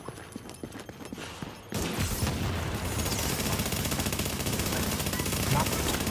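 Sustained rapid gunfire in a video game, starting abruptly after a quieter opening and continuing as a dense, unbroken barrage of loud shots to the end.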